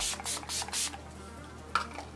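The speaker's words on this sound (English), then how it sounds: "I will give my face one more last spritz" Four quick hissing spritzes of makeup setting spray onto a face in a row, then a pause and one more short spray, close up.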